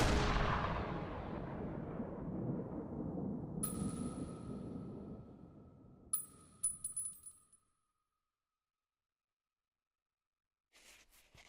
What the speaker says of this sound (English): a gunshot isn't gonna fucking kill Rin